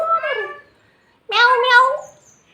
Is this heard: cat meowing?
yes